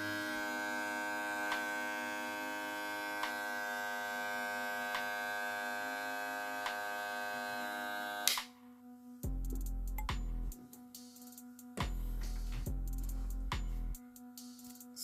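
A Wahl 1919 hair clipper fitted with a ceramic blade hums steadily and quietly up close for about eight seconds, then switches into bursts of low, louder running separated by short pauses.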